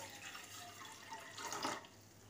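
Water poured from a jug into a pot sitting on a stove, a soft, brief trickling splash that swells near the end before fading, heard up close with no voices.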